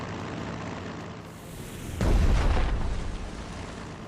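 Explosions and artillery fire in the wartime strategy game Strategic Mind: The Pacific: a steady low rumble breaks into a loud, booming blast about halfway through, which rolls on and slowly fades.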